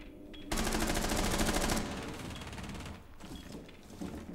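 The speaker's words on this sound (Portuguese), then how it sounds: "O tiro tá vindo da portinha do canto lá." Rapid automatic gunfire in the video game Rainbow Six Siege, a loud burst of quick rattling shots lasting over a second, followed by quieter scattered shots and mechanical clatter.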